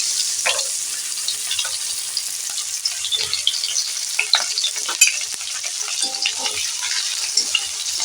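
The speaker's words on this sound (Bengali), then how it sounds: "ফোড়ন হয়ে গেছে পেঁয়াজ কুচি দিয়ে দিলাম" Chopped onion fries in oil tempered with bay leaf for a prawn and ash gourd dish, a steady hiss of sizzling with intermittent clicks and scrapes of stirring, close and without talk.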